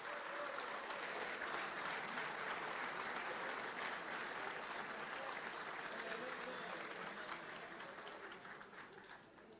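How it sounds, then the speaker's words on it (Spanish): Sustained applause from a large crowd welcomes presidential candidate Alberto Fernández at a working luncheon, a steady dense roar of clapping that holds for several seconds, then slowly tapers off. "Recibimos con un fuerte aplauso al candidato presidencial Alberto Fernández."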